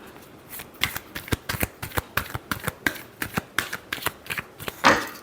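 Playing cards shuffled for a tarot-style reading, a quick run of crisp riffling snaps close by, steady and rhythmic, ending in a louder brushing sweep.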